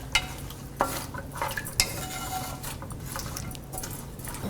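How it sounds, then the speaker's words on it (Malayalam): A jackfruit seed stir fry with coconut pieces gets stirred in a pan, giving a soft steady hiss with a few sharp scrapes and clinks of the spoon against the pan, close and moderately loud. "നന്നായിട്ട് മിക്സ് ചെയ്യുക"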